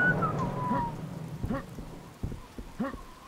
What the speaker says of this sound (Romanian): Și puțin fluierat din partea lui Sam.